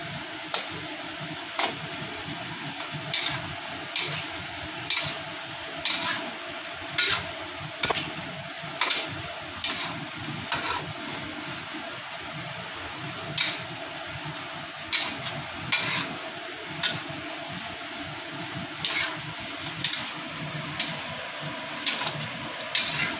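Ginger and garlic being stirred into a cooking pot, with a steady low simmer and regular soft scraping strokes of a spoon repeating every second or so, close and fairly quiet, no talking.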